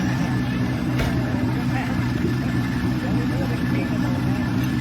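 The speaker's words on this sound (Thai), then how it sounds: "ดูจากเสียงเครื่องยนต์แล้วน่าจะอยู่บ่อแรกครับ" A steady low engine rumble from an off-road vehicle idles continuously throughout, close by, at an off-road event in Khanom, Thailand, with a faint voice murmuring in the background.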